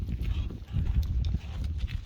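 Goats on a farm walking up to a water tank feeder that was just filled by hose, giving a steady low scuffle of hooves and movement over dry ground, close and continuous.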